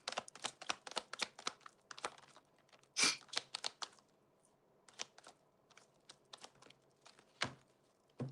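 A deck of tarot cards being shuffled, with quick bursts of crisp riffling and slapping card sounds in uneven clusters, close and fairly quiet, with no talking.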